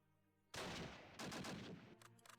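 Bursts of gunfire in the wartime strategy game Close Combat crack out loud and close, a long heavy volley, a brief pause, then another sustained burst trailing into scattered shots.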